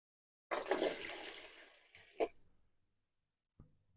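Cichlid fry being poured with water into a breeder box, a brief close splash and gush of liquid followed by a short second pour, then trickling fading to quiet and a small knock.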